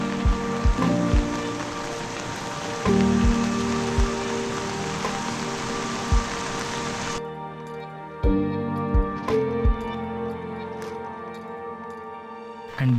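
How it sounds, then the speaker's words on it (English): Hail pelts down during a mountain storm on the Kashmir Great Lakes trek, a dense, continuous patter of hailstones on the ground and surfaces, loud and close throughout, cut by sharper impacts and rhythmic thumps. "From a sunny spring day to raging hailstorm and back to normal again."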